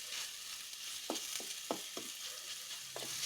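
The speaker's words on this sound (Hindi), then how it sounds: "जैसा कि आप देख रहे हैं हमारी रेडिश फ्राई हो गई है" Radish frying in a pan for Kashmiri radish chutney gives a soft, steady sizzle broken by a handful of light scraping stirs, quiet and close with no talk.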